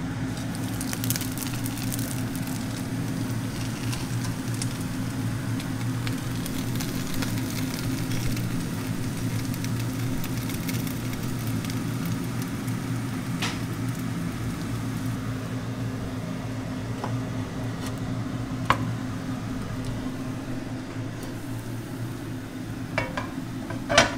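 Pork and cabbage dumplings pan-frying, a soft continuous sizzle with a low steady hum beneath and a few faint clinks toward the end.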